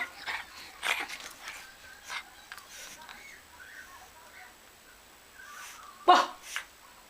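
A small pug yips and barks in short, scattered bursts at close range, with one sharper, louder yap near the end.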